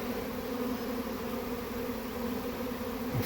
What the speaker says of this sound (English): Easy way to catch a swarm.